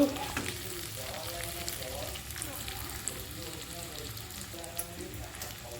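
Rice fries in a pan for pulao, giving a soft, continuous sizzle with faint stirring scrapes, fairly quiet and close, under a low voice at times.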